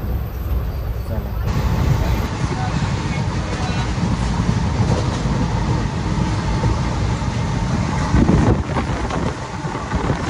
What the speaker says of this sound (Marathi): आज पण आपल्याला पूर्ण दिवस जाणार आहे ट्रेनमध्ये